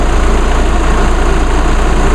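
A 2.8 liter Duramax diesel engine idles close by with a loud, steady low rumble and an even rhythmic diesel clatter, running alone with no voices over it.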